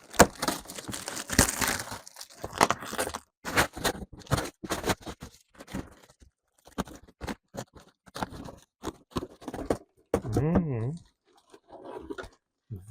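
Packaging around two vintage guitars, one an old Russian 7-string, is unboxed with scissors, giving irregular bursts of crinkling, crunching and cutting that come and go between pauses, with brief speech near the end.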